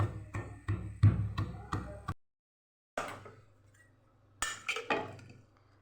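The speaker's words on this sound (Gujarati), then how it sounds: "લસણવાળી એક ચમચી જેટલી એક ચમચી જેટલું લાલ મરચું પાવડર ઉમેરી થોડું ચપટી જેટલું મીઠું ઉમેરી અને આપણે ખાંડી લેવાનું છે" Garlic chutney with red chili powder and salt is pounded in a mortar, giving a run of loud, hard, evenly spaced knocks with a clinking ring, then a pause and a few more strikes under light background noise.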